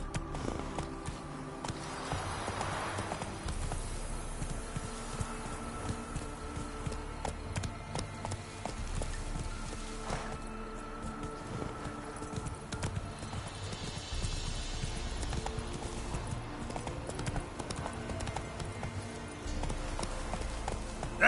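Rapid clip-clop of Roach, the horse in The Witcher 3, galloping over ground with steady rhythmic hoofbeats under a dense game soundscape, close and continuous throughout.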